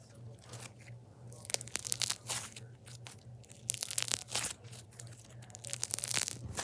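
Bead-filled slime fidget toy squeezed close up, giving bursts of crisp crunching and crackling in irregular clusters over a low steady hum.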